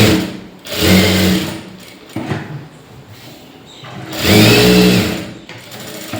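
A sewing machine stitches around a lining blouse in two loud, close bursts separated by a quieter pause with light handling noises; no one speaks.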